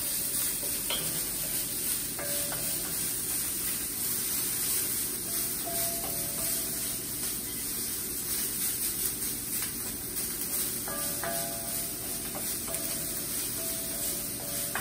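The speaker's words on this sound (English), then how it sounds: "Then we're gonna go in with our ginger and scallion. And give that a stir in and let it cook in the nice high heat." Ginger and scallion stir-fry over high heat in a pan, giving a constant loud sizzle and hiss with occasional faint clinks of a utensil against the pan.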